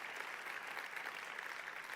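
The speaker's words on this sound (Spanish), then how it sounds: "si vas a aplaudir, hazlo con más ganas" A church congregation applauds during a sermon, a steady even wash of clapping with no breaks, fairly faint and distant.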